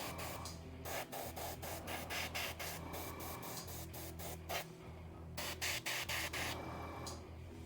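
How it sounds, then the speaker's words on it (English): Airbrush spraying paint onto a Kingdom Death miniature, a steady close hiss broken by short on-off bursts as the trigger is pulsed, with a constant low hum behind it. "And all I'm doing is just spraying in the shadows."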